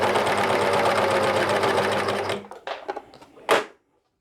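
A Janome 534D serger/overlocker runs at speed while chaining thread off its hooks, a dense, even whirring buzz for a couple of seconds before it slows with a few mechanical clicks and stops.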